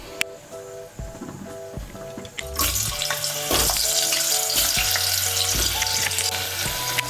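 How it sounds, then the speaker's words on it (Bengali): Quartered pieces of a large potato fry in a pan for a Bengali chicken curry, with a brief clatter and stirring before a loud, continuous sizzle rises and holds steady close to the mic. "আলুটাকে একটু ভেজে নেব।"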